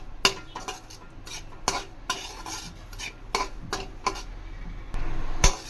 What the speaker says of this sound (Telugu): కలర్ మారే వరకు మేము డ్రై రోస్ట్ చేసుకోవాలి